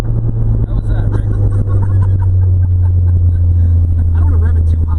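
A 2.3-litre engine in a 1992 Laser AWD hums and rumbles steadily at a raised idle, loud and close, with a voice speaking over it.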